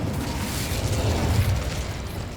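The Incendio fire spell cast in Hogwarts Legacy, a sustained roaring burst of flame with a rumbling low body that holds steady for a couple of seconds before easing off slightly.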